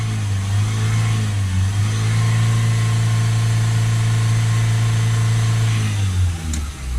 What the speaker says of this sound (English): Give it a few revs up and down.